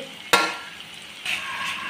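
Ivy gourd and tomato sizzle in a pan, a sharp scrape of stirring at the start, then steady frying crackle that swells again.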